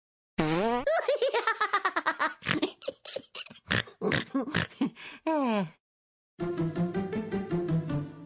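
A string of loud, comical fart sound effects, some long and wobbling, others short sputtering bursts, followed after a brief pause by a drawn-out blubbering raspberry.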